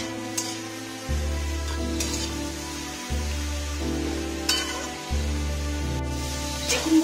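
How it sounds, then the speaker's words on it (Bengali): Pieces of potol (pointed gourd) frying in hot oil in a kadai, a steady crackling sizzle with intermittent stirring scrapes, fairly close and unaccompanied by talk. "এরপর পটলগুলো ভালো করে লাল লাল করে ভেজে নেব।"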